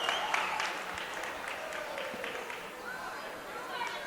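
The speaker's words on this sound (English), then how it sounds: "Crowd for Exeter Milligan doesn't like the call." Crowd noise at a high school girls' basketball semifinal for Exeter-Milligan, a steady wash of murmuring and scattered shouts reacting to a foul call, with faint voices and cheers mixed through the din.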